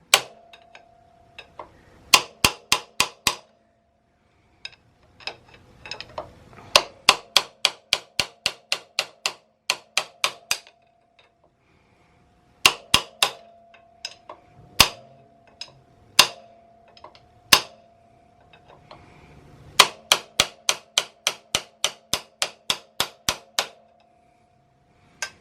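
A Motion Pro shock spanner punch is hammered in repeated bursts of sharp metallic taps, each run of several quick strikes separated by short pauses, close and crisp with no talk over it.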